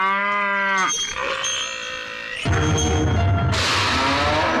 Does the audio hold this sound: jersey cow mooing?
yes